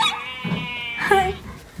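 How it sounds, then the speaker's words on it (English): A dog whines and yelps in short, high-pitched, quavering cries, close and fairly loud, for just under two seconds. "Yeah, that's a dog."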